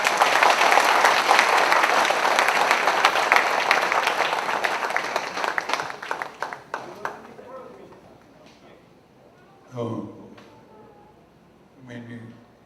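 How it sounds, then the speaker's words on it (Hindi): An audience at an award felicitation for actor Kader Khan breaks into loud, dense applause that fades over several seconds into scattered claps, followed by someone speaking. "एक बार जोरदार तालियां हो जाए।"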